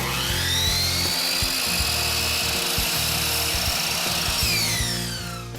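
A power saw rips through uDecor chair rail molding, a loud motor whine rising as the blade bites, a sustained buzzing cut, then spinning down at the end.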